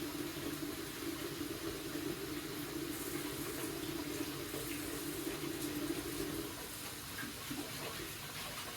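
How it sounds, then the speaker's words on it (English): Tap water runs steadily into a sink while hands are scrubbed under very hot water, a continuous close rushing with small splashy changes and no talking. "I'm washing my hands real good."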